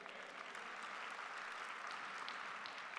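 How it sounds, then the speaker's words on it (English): Steady, dense applause from a church congregation fills the clip, many hands clapping continuously at an even level with no break. "Give a hand clap."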